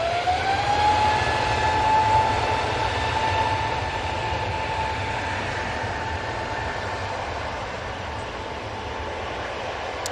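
An EasyJet airliner departs Manchester Airport for Lanzarote: a loud, steady jet roar fills the whole stretch, with a high whine that rises early and then holds, fading only slightly toward the end.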